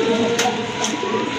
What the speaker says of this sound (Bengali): মাশাআল্লাহ দেখেন আরেক জোড়া কবুতর খুবই সুন্দর, একদম ফুল ফ্রেশ কবুতর